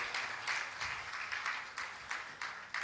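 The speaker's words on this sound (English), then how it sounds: "Can we give him a professorial round of applause?" An audience gives a round of applause at a commemorative gathering honoring Professor Humphrey Nwosu in Abuja, a sustained patter of many hands clapping in uneven surges, moderately distant and without voices on top.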